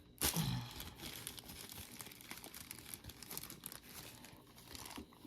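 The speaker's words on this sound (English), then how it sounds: "So, this is the plastic bag. I've torn it already in half." A plastic bag crinkles and tears up close, opening with a sharp rip followed by continuous rustling and crumpling as it is handled.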